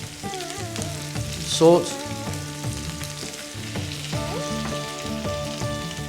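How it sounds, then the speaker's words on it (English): Onion and garlic sizzle steadily in a hot pan, a close, busy crackle with occasional stirring scrapes, while a voice speaks briefly over it. "What we're going to do now is we're going to drop in that onion, the garlic"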